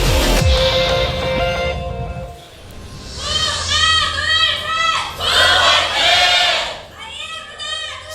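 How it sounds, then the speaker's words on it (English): A crowd of League of Legends fans supporting Longzhu IM at an LCK Summer 2015 match against KOO Tigers cheers and screams in loud rolling waves, rising in bursts with high shrill voices throughout. "Big cheers from the IM crowd today."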